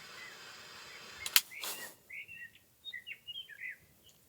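High-altitude warblers sing on a mountainside in freezing weather, a string of short, bright chirps and trills after a sharp gust or rustle, clear and moderately close against quiet background.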